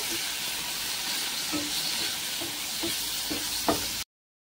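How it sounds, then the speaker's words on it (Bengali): Chicken frying lightly in a little oil in a pan on a gas stove, a steady broadband sizzle running throughout with a few soft stirring or scraping knocks, close and even, then cutting off abruptly. "এখন আমি চিকেনটাকে হালকা ভেজে নেব।"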